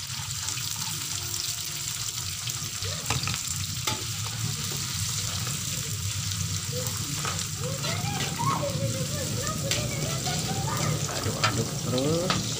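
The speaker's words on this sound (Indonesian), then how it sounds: "Aduk-aduk terus sampai layu." Green chilies stir-fried in a wok for anchovy sambal give a steady, close sizzle throughout, with continuous stirring scrapes and clatter layered over the frying hiss.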